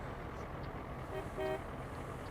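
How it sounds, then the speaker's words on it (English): In a truck simulator game, a truck horn gives a short, faint honk that sits low beneath a steady wash of road and engine noise. "he's honking at the guy in front of us."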